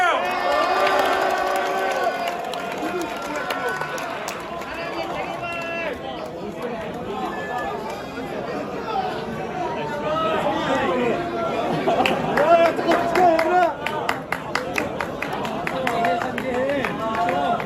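An audience at an event cheers and chatters, a broad crowd roar with shouts and some clapping that swells toward the end, mixed with voices speaking over it.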